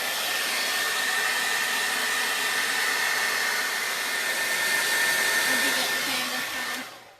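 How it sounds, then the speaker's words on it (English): A hair dryer blows steadily and loudly on blue paint, a continuous airy whoosh lasting several seconds before it is switched off. "now I'm going to make a noise again and hair dry the blue"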